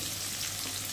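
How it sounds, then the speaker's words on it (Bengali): Potatoes going into onions already frying in hot oil, for a rohu fish curry with potato and eggplant, give a steady close sizzle with no pauses for the whole second and nobody talking. "পেঁয়াজটা একটু ভাজা ভাজা হয়ে গেছে, আর এখন আমি দিয়ে দেবো কেটে রাখা আলু"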